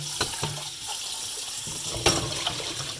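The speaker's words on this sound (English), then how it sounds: "you can just rinse it out with some water." Tap water running as a pot is rinsed out in a sink, a continuous splashing, gurgling flow with a few clunks of the pot, close and fairly loud, without talking.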